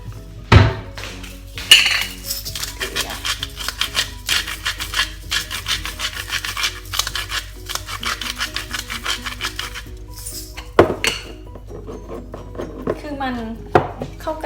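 Utensils scrape, tap and clink against a bowl in an irregular rhythm, with a few louder knocks, as an apple and beetroot salad is tossed.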